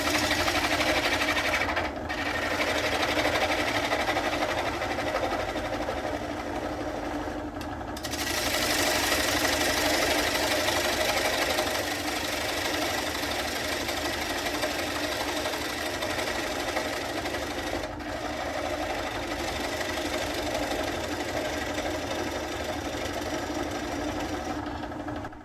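A bowl gouge cuts away the tenon of a wooden bowl turning on a lathe. It makes a steady, close whirring and scraping hum that runs almost unbroken, with a few brief dips.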